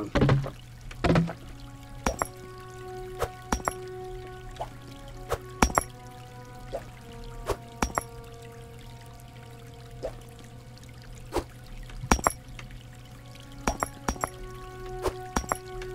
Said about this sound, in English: this dripping is getting a bit annoying